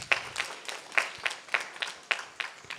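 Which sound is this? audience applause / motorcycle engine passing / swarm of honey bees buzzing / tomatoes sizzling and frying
audience applause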